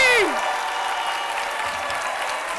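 A studio audience on a French-language television show applauds a singer. A steady bed of clapping runs through, with music and a voice overlapping at the start and again near the end.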